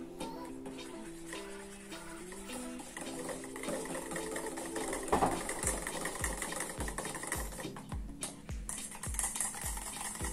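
A small electric mixer whirs steadily while homemade face cream for combination to oily, acne-prone skin is blended, with a buzzing motor tone and rhythmic low thumps toward the end.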